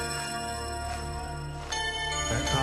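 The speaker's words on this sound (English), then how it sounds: "Almost sounds like bells tolling." Electric guitar in a cover of a rock song, playing sustained ringing tones that ring like tolling bells, with a brighter struck note partway through over a steady band backdrop.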